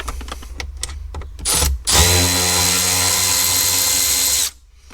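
A power screwdriver fitted with a T20 bit backs out a console bolt in a Mercedes CLK W209 interior, with a short whir after a few faint clicks, then a steady loud high-pitched drill whine for about two and a half seconds before stopping.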